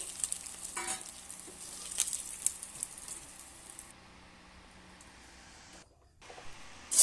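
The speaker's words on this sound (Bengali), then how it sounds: "এবার আলুগুলোকে ভেজে নিচ্ছি।" Potatoes frying in a pan for a spicy small-fish curry, giving a soft, steady sizzle and crackle that fades into near quiet toward the end, heard alone without talk.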